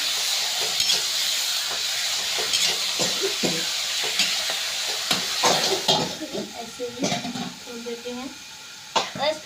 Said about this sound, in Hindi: मैं डालती हूँ, छोड़ती हूँ और चला देती हूँ अच्छे से।